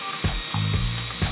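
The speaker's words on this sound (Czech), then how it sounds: "vložíš ten nůž a směrem k sobě s ním pomalu budeš projíždět" A knife is drawn slowly through a knife sharpener, pulled toward the user in a few close, rasping, grinding strokes with short gaps between them.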